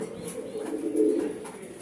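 Racing pigeons give a continuous low, throaty cooing, close and fairly quiet, with no one speaking.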